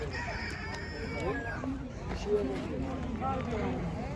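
Roosters crow repeatedly amid clucking fowl at a busy Ankara poultry market, with several calls overlapping at mid distance under steady chatter from people nearby.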